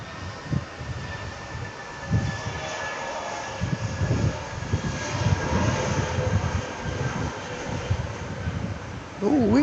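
Air New Zealand flight NZ559 departing Auckland International Airport for Christchurch: a steady jet engine roar in the distance under intermittent nearby talk, with a faint rumble throughout.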